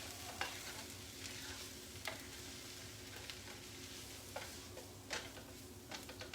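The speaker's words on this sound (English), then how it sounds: "And then we're gonna mix that in." Soft scraping and clinking of a spoon stirring chicken pot pie filling in a pot over a steady low sizzle, with occasional sharp taps against the side.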